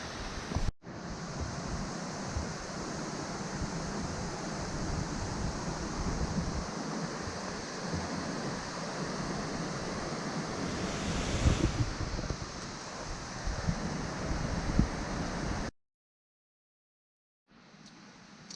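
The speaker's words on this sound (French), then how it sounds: "Et cette cascade qui s'écoule, enfin." A mountain waterfall in the Chartreuse and Vercors massifs rushes as a steady, dense roar of falling water mixed with wind buffeting the microphone, then cuts to silence near the end.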